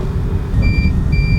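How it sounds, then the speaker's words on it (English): Spinshot tennis ball machine set on a tennis court, giving two short, clear electronic beeps over a low rumbling background. "And then when you hear it start beeping"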